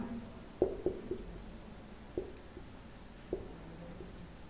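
A teacher writes on a board in a classroom, making a few soft, close taps and scratches in short clusters separated by quiet pauses.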